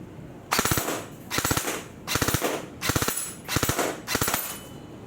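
An airsoft gun fires on full auto in five or six short, close bursts of rapid clattering shots, each separated by a brief pause, with no voices over it.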